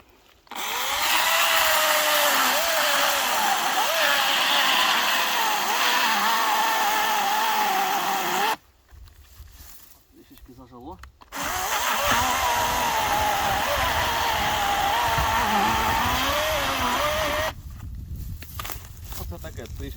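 A Kraissmann 3502 cordless chainsaw with a 35 cm bar cuts through a log, its motor whining loudly and steadily for long stretches, broken by brief pauses where the saw drops to near silence before cutting again.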